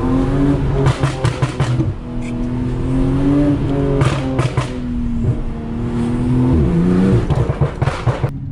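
A Porsche 911 Turbo S engine rumbles and revs up and down repeatedly, loud and close, with the pitch rising and falling over several seconds.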